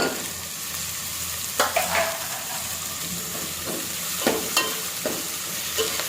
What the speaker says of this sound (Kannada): ಟೊಮ್ಯಾಟೊ ಹಾಕೋತೀನಿ ಅದು ಫ್ರೈ ಆಗೈತಿ